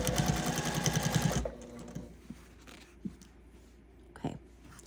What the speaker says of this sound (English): So I'm gonna sew.